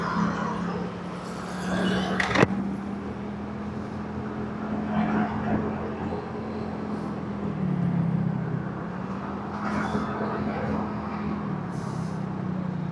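Congested street traffic on Jalan Sudirman near Pasar Cinde in Palembang, a steady mid-distance rumble of cars, motorbikes and buses with a low engine drone, passing swells and a sharp click or honk early on.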